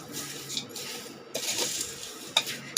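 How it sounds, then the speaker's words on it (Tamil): Flattened rice (aval) mixture being stirred in a frying pan makes quiet, intermittent scraping and light clinks over a faint sizzle, with a sharper knock near the end. "இதில் நல்லா மிக்ஸ் பண்ணிக்கலாம்"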